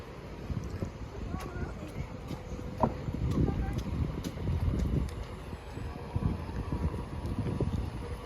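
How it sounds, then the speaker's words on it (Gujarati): A passing food delivery motorbike rumbles low and steady under gusty wind noise on a street, its engine sound rising and falling over about eight seconds. "જે બાઇક જાય છે ને એ ફૂડ ડિલિવરી વાળો છે."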